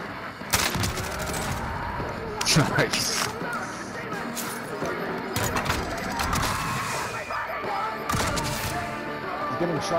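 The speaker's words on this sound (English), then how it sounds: "He's getting shot at from the other side." Gunfire in Call of Duty Warzone, with bursts and single shots scattered through a busy mix of game noise, some sharp cracks standing out around the middle and near the end, while players talk over it.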